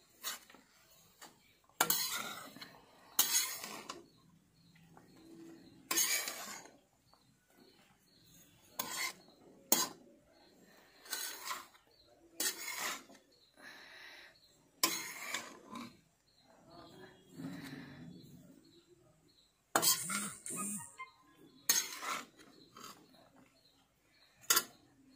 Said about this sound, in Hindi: इसको अच्छी तरह से मिला लेंगे।